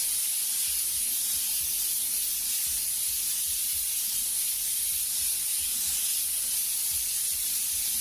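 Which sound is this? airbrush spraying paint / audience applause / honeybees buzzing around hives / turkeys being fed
airbrush spraying paint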